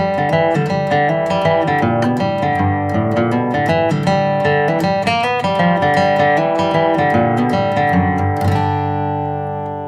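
Twangy electric guitar runs through stock country and bluegrass licks, a steady stream of quick picked notes and double stops played alone at a strong, even level before ringing out at the end.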